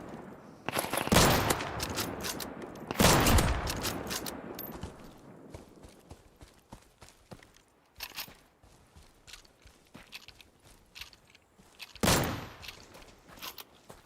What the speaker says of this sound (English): the headshot splats that are way too loud